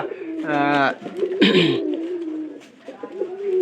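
Pigeons in a loft coo in low, soft rolling calls beside other birds chirping, with a brief wing flutter or scuffle in the middle; someone talks over them throughout.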